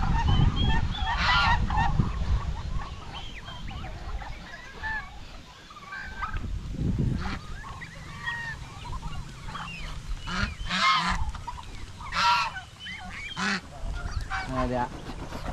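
Farm ducks and geese honking and quacking in repeated bursts, near and fairly loud, over a steady outdoor background with faint voices.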